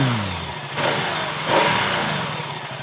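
A Ducati Diavel motorcycle engine revs in two swelling bursts of throttle, close and loud, each rising and easing back toward a steady roar.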